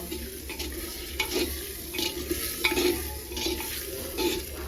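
Spiced chicken masala sautés in a handi, steady sizzling under repeated scraping stirs that come in an irregular rhythm, close and fairly faint.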